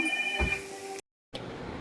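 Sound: phone ringing

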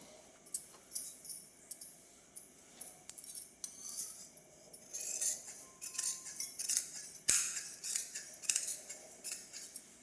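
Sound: scissors cutting blouse fabric

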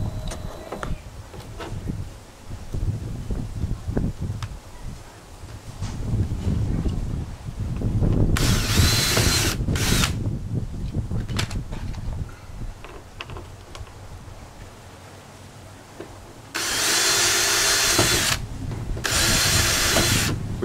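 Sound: power drill drilling into a gaming chair for a rivet

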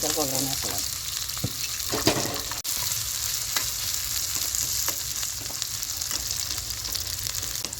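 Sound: curry leaves and onion spluttering in oil

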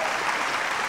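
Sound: audience applause as the chairperson comes to the stage

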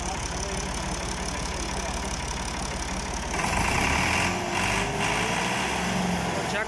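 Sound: Massey Ferguson MF 260 tractor engine running in a field

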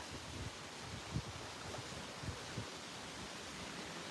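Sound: wind blowing at a lake in Sweden

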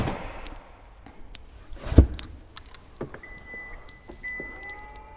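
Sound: Kia EV6 GT power tailgate opening automatically

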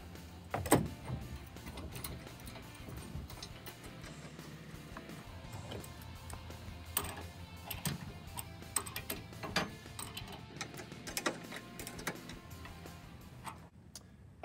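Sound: bolt being tightened on a Rock Racks bike rack hitch

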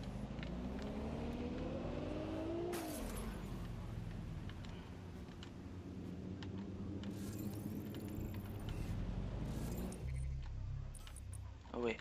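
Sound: car driving in video game Watch Dogs Legion

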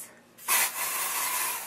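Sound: hairspray sprayed over hair roots

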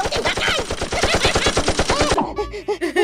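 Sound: machine gun fire

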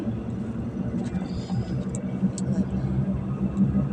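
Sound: oncoming cars passing while riding a motorbike

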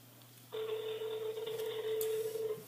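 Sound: telephone ringing on an outgoing call

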